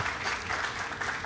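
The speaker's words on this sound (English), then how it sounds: "let's give Tim a round of applause." Brief, moderately distant crowd applause at an outdoor ceremony at the Los Angeles port honoring a historic battleship, an even patter of many hands with no clear voices.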